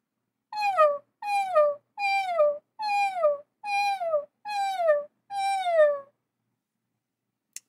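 A lone voice imitates sad puppy whimpers: seven short, separate whines, each sliding downward in pitch, evenly spaced and close, followed by silence and a faint click at the end.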